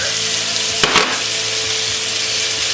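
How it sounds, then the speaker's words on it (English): Shallots and garlic frying in butter over medium-low heat, a close, steady dense sizzle throughout with a brief stir or clatter near the start, no talking. "I'm going to go ahead and add the shallots and the garlic."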